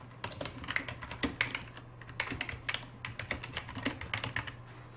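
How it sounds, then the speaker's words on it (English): Computer keyboard typing fills the whole span, rapid, uneven keystrokes clicking close by under a faint steady hum. "type in some text"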